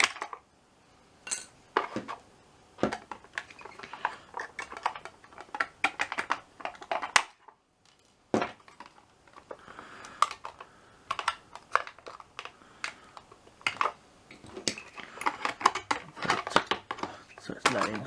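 Metal from an old fish can being cut off with clicky, clattering snips and scrapes in irregular bursts, close and fairly quiet, with a brief pause midway.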